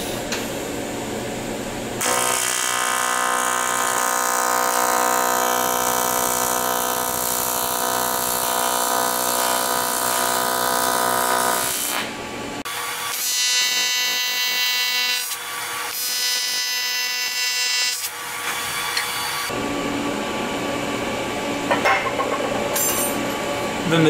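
TIG welding on 6061 aluminum, short welds of about an inch: a steady buzzing, humming arc runs for long stretches, broken by short pauses and shifts in tone, close and continuous without speech.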